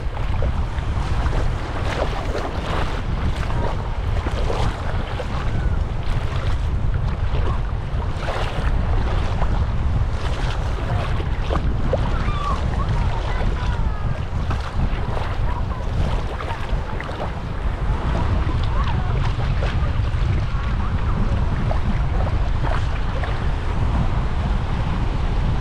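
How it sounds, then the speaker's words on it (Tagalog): Strong waves slap and rush against a boat near Anda, a constant loud roar of water and wind that persists throughout without voices. "Malakas tong alon na to."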